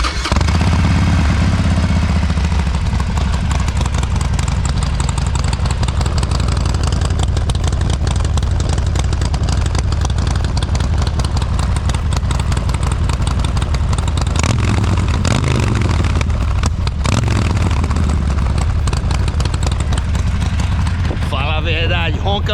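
Harley-Davidson Iron 1200 motorcycle with an Evolution engine running, a loud, continuous deep rumble with a steady lumpy idle throughout and a brief rise in revs near the middle.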